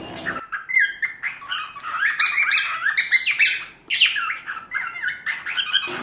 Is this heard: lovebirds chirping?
yes